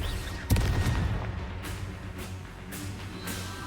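A Confringo blasting spell cast in Hogwarts Legacy bursts with a sharp, loud boom, followed by a rumbling tail and several lighter crackling impacts spaced out afterward.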